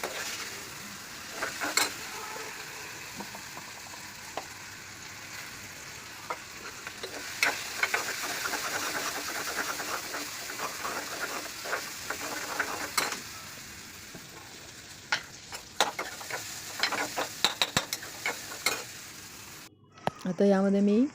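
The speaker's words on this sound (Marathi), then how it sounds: "हळद चांगल्या प्रकारे परतून घ्या" Turmeric and salt sizzle and fry steadily in a pan, with occasional scraping stirs and clinks close by, ending in a brief louder clatter.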